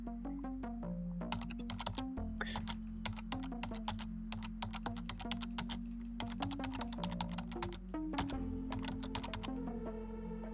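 Rapid typing on a computer keyboard, dense irregular clicks of keys close up, continuous over about ten seconds with brief pauses, over a low steady hum.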